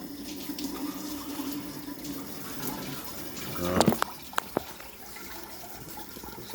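Garden hose water at high pressure flushes the top end of a Mercury 135hp outboard motor through a flush connector, a steady close hiss and spray with a louder gush and a few sharp splashy knocks midway.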